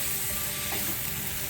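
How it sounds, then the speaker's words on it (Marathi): Vegetables for a paneer kathi roll sauté in a pan with a soft, constant sizzle and hiss, brief and unbroken, with no voices. "भाज्या थोड्याशा परतून घ्यायच्या."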